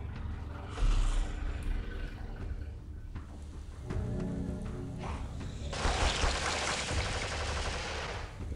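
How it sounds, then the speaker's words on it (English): Rapid bursts of Daryl's assault rifle fire in the video game TWD No Man's Land, sharp repeated shots in short volleys with a louder stretch near the end, no talk. "I think that there's a different sound effect to this weapon"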